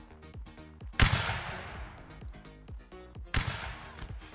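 Musket volleys in the Napoleonic Wars mod of Mount & Blade: Warband: two sharp, loud cracks with a long rumbling tail, set against a background of other rhythmic, pulsing game sounds.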